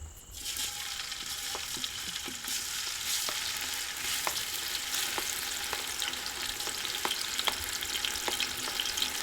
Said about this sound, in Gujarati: તેલ ગરમ થઈ ગયા બાદ તેમાં આપણે આદુ મરચાં અને લસણની પેસ્ટ નાખીશું